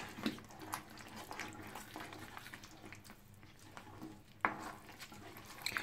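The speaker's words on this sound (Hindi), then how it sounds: "और इसको हम अच्छे से मिक्स करेंगे" Dum aloo gravy with spices being stirred in a pan, a soft scraping and faint sizzling texture with a few sharper spoon knocks, steady and close throughout.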